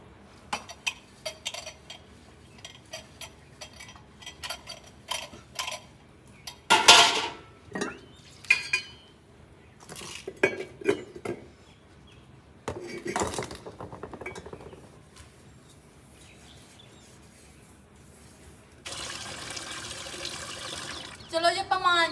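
Pots, pans and utensils are scrubbed and rinsed at a sink in a Punjabi village home, with scattered clinks and scraping, bursts of running water, and a steadier spray of water near the end, while people talk in between.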